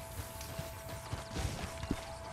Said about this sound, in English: he was getting on his horse